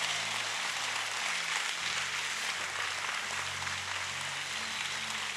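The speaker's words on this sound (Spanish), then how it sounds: "dale aplauso, dale aplauso, dale aplauso" A church congregation claps at length in a steady, dense patter that fills the room, with no voices standing out above it.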